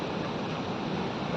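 Steady broadband roar of the Chitrakoot waterfall on the Indravati river, a continuous rushing wash of falling water with no breaks, fairly even in loudness.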